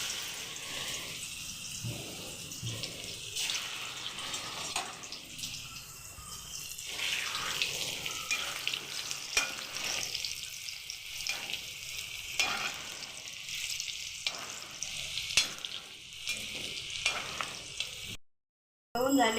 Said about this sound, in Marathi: मी आता तळते.